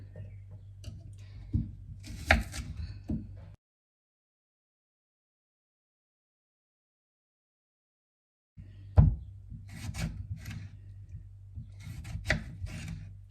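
Knife cutting a tomato into four pieces on a board while cooking a Nepali mutton curry, a run of close knocks and rasping cuts, then a silent gap, then more cuts.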